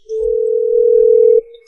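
A steady telephone tone heard while placing a call, a single continuous hum held for over a second before cutting off abruptly, clear and close with no voices.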